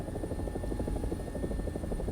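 Steady rotor chop and engine drone from an AB 205 A-1, the Italian-built UH-1H helicopter, flying in a video game. The thrum runs continuous and fairly loud with a faint high whine above it and no talking.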